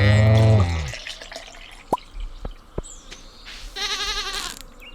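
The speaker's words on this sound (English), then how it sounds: "Milk the goats." Cartoonish goats bleat in the farming game Stardew Valley: a loud wavering bleat opens, followed by a few soft drips and clicks, then a second, quieter, trembling bleat near the end.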